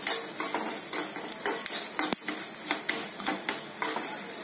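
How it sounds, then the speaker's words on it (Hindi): Curry leaves are tempered in hot oil in a pan for a tadka over curd rice. A spoon stirs with repeated scraping clicks against the metal while a soft sizzle hisses underneath. "हमारा तड़का तैयार है।"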